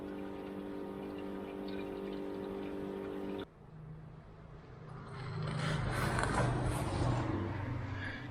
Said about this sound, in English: So the next thing we need to do is put some water in it and run it until it's warm.